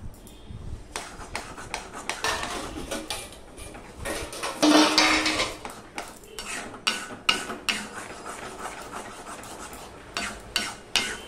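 A spatula stirs and scrapes mango sandesh mixture around a metal wok in quick, repeated strokes, a clattering, grating rhythm that rises and falls close up, with no talking.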